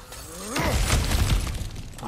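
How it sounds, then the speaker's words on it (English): Objects smashed apart in the video game God of War Ragnarok: a loud crashing shatter of breaking debris, with a rumbling impact burst mid-clip that tails off, over a faint background voice. "Like just smashing some things for fun and profit."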